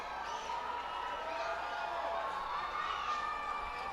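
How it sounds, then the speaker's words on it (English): Crowd at a Reading Fightin Phils minor league baseball game against the Altoona Curve cheering steadily, a broad continuous roar of many voices with rising and falling shouts, moderately loud and sustained. "Crowd cheering loudly for the R Phils here"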